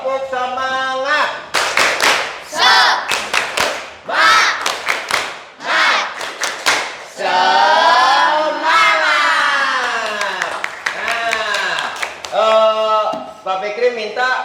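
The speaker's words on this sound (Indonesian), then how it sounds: "Yuk, tepuk semangat dulu." A primary school classroom performs a rhythmic spirit clap, with loud sharp bursts of group clapping in patterned beats mixed with children chanting and shouting together.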